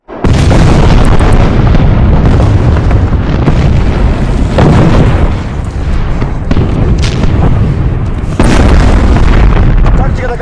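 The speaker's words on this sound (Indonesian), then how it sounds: "Tembakan artileri pun diluncurkan." Heavy artillery fire in a war film: loud, deep booming blasts roll over each other in a dense, continuous barrage, with rumbling bursts swelling at intervals and voices faintly beneath.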